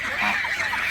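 A flock of geese on a roughly one-acre farm honks loudly and continuously at close range, with overlapping calls and no talking.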